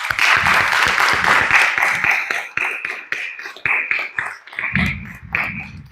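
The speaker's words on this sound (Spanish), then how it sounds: "Recibámoslo con un caluroso aplauso." An audience at a conference applauds to welcome a speaker, dense clapping that starts full and loud, then thins into scattered individual claps and fades out.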